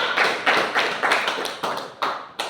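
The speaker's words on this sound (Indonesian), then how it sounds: "tepuk tangan untuk kelompok 2" A classroom of high school students claps in a rhythmic, unison pattern for a presenting group, about six sharp bursts of clapping spaced roughly half a second apart, close and fairly loud.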